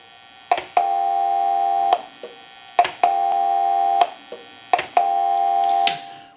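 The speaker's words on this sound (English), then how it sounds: "We'll give you some dial tone when we do that." Repaired AE Space Maker 183 telephone producing a steady dial tone repeatedly cut off by clicks of the hook switch and dialing, several sustained tone bursts separated by sharp clicks, close and clear with no talking.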